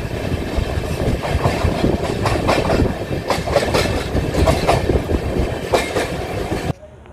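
Onboard the Gwalior–Howrah Chambal Express, a loud, steady rumble of the coach on rails with rhythmic clickety-clack of wheels over joints, continuous and close until it cuts off abruptly near the end.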